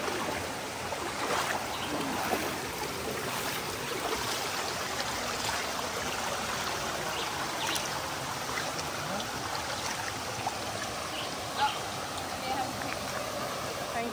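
A river flows steadily along a hiking trail in Jamaica, a moderate, continuous trickling and rushing with scattered small splashes, and faint indistinct voices blend in beneath it.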